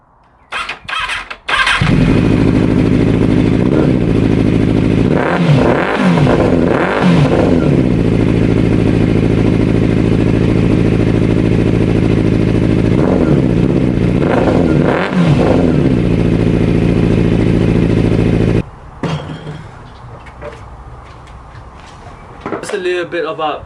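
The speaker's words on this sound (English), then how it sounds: "Daytona को चाहिँ engine start गर्ने बेला you have to press the clutch as well" A modified Triumph Daytona 600 motorcycle cranks and fires, then idles with a loud, close, throaty rumble broken by several sharp throttle blips, before the engine cuts off and a person speaks.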